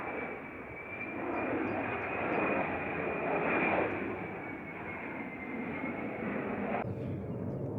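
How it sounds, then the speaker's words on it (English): F-35 fighter jets pass over a rail line at Carreg Iago in north Wales, their broad roar steady and fairly distant, swelling slightly and then easing. "we've got F-35 fighter jets flying around as well"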